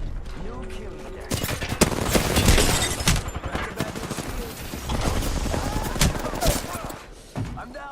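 Rapid bursts of automatic gunfire and scattered shots fill an Apex Legends firefight, loud and dense for most of the stretch, with brief pauses and faint game voice lines mixed in.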